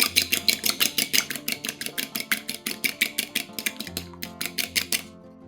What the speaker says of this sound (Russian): Одно яйцо разбиваем в миску и немного взбиваем его вилкой.